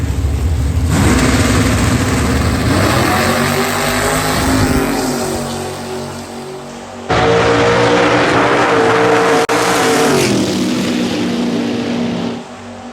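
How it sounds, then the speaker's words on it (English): Drag racing cars, including a big-tired Ford Mustang, launch at Lapeer International Dragway: loud, sustained engine roars with rising revs, one run cutting off abruptly before a second roar starts. "taking on the Floyd Williams famous Jerry Sidock dedicated big tired Ford Mustang on the far side of the racetrack"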